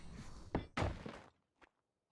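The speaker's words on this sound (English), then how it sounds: "let's put the door on" A door being fitted onto a building in a Ragnarok adventure game sounds as a few hollow wooden thunks and a heavier slam close up, then a short faint knock after a pause.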